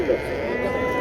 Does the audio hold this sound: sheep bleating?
yes